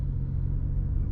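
Tuned Ford F-150 EcoBoost with a GearHead tune, engine and exhaust heard from inside the cab: a steady, loud low-frequency rumble and drone throughout, with no voices.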